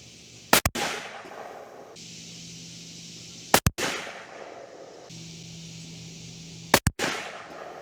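Three rifle shots of ELD-X ammunition fired at a target, each a sharp loud crack with a quick double report and a rolling echo, spaced about three seconds apart outdoors.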